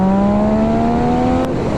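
A 2019 Yamaha XSR 900 motorcycle engine spins up close by, its strong humming drone rising steadily in pitch, with a brief dip near the end before it carries on loud.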